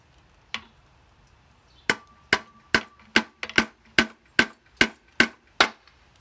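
A Kohler Courage SV-540S/SV-590 vertical engine part is tapped lightly to break its gasket seal. One isolated knock is followed by about ten sharp, evenly spaced hammer taps, crisp and close, with silence between them.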